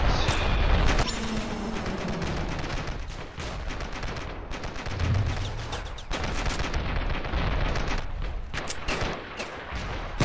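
In the Ravenfield combat game, a modded rocket launcher fires amid a dense battle soundscape: repeated loud blasts and bursts of gunfire pile up over roughly ten seconds.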